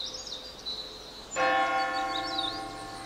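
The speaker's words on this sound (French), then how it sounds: "La cloche de l'église sonne" A church bell at a forest sanctuary strikes once and rings out loudly, its tone lingering and slowly fading, with faint birdsong in the background.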